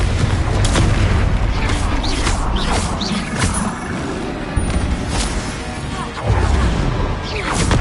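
Confringo spell blasts in Hogwarts Legacy: heavy, booming explosions and crashes roll continuously through a loud, dense combat mix, with fresh bursts punching through near the middle and end.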